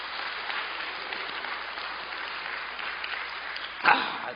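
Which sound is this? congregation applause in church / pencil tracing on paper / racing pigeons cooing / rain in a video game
congregation applause in church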